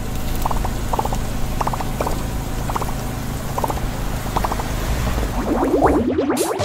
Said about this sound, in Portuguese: Este é o som produzido pelas formas quentes de takoyaki ao colocar manteiga